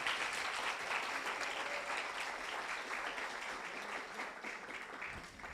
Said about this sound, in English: can we get a round of applause for the U.S. Embassy?